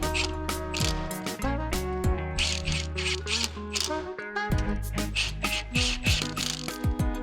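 A torque wrench tightens car wheel nuts with a series of sharp, close ratcheting clicks in quick bursts, pausing briefly between strokes, with faint mechanical clatter between them.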